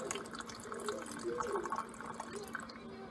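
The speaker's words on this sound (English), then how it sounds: "I'm going to fill it up with my distilled water" Distilled water pours into a salon hair steamer with a light, trickling splash, under a faint background hum and some indistinct speech.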